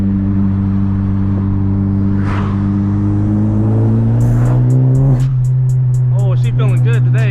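An E85-tuned 10th-generation Honda Civic Si engine drones loudly from inside the cabin, then rises sharply in pitch as it accelerates, with what sound like turbo flutters and pops near the end on a canyon road.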